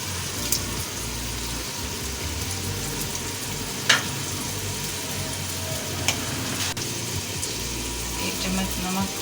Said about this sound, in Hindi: अब इसमें डालेंगे अदरक लहसुन का पेस्ट